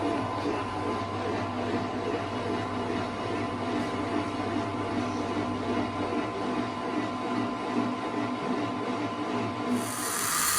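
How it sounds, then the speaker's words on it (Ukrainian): A line boring machine cutting the quick hitch bore of a JCB 530 before weld build-up, giving a steady loud mechanical drone and whine that holds evenly throughout. "Проводимо розточку вже перед наплавкою."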